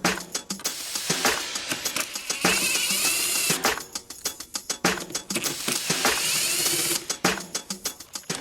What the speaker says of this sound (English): Remove the upper portion of the airbox and filter by using an 8mm socket